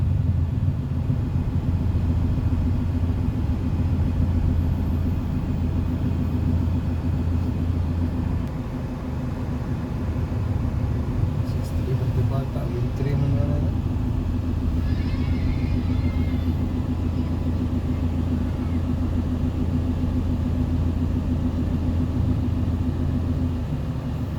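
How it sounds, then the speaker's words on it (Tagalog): Steady low rumble of road traffic crawling along a narrow road from Lapu-Lapu toward Cordova, Cebu, with engine drone continuous throughout and occasional faint vehicle sounds, no talk. "Bakit traffic dito ngayon?"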